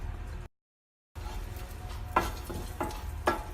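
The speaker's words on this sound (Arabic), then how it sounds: "هحط زيت زيتون في المقلاية، وهحط معاه الثوم وهقلبه شوية" Garlic frying in olive oil in a pan and being stirred, a steady close sizzle with a few scraping stir strokes after a brief gap of silence.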